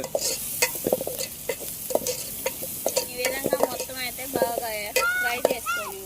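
Food frying and being stirred in a pan of Telugu home-cooked prawn dish, steady sizzle broken by repeated sharp scraping and clinking strokes of a spoon, close and fairly loud, with brief whistling tones near the end.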